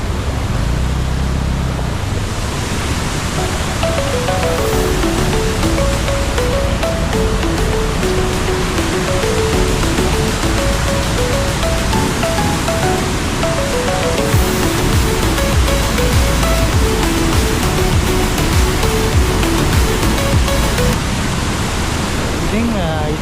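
Ramboda Falls in heavy flow after rain, a loud unbroken roar of rushing water filling the whole span, with a faint melodic tune running over it.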